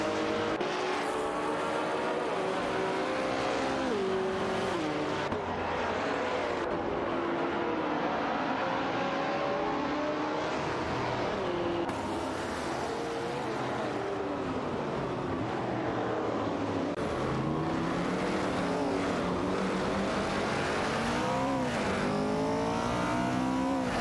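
Race cars roar through a racing video game as a Ford GT40 MPE duels with a Porsche, engines droning continuously with rising and falling pitch sweeps as they accelerate and shift, loud and steady throughout.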